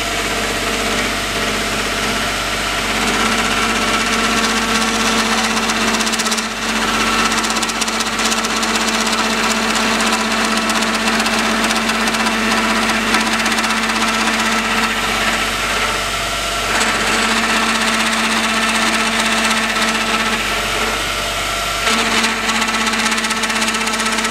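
A gear-cutting machine milling the last tooth of a helical gear blank, a steady droning mechanical hum with a sustained tone, running continuously and loudly for the whole stretch with brief dips.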